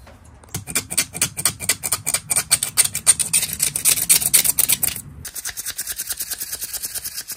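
A pitted, badly worn knife blade being sanded by hand with sandpaper, giving a close, steady run of quick rhythmic rasping strokes that pause briefly, then resume at a lighter pace.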